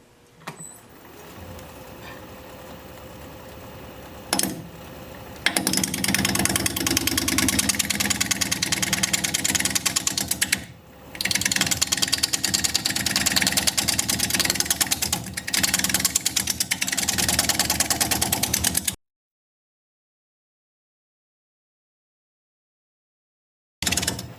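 A wood lathe spins at 580 RPM while a sharpened 5/8 inch bowl gouge cuts a cracked bowl blank, giving a loud, steady machine drone with cutting noise, broken by a short dip midway and then silence near the end.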